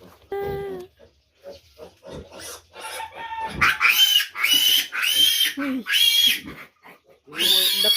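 Sow and piglets on a farm, with loud close squeals and grunts in repeated bursts, chickens clucking nearby and brief voices in between.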